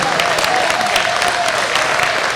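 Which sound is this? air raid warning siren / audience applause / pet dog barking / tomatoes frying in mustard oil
audience applause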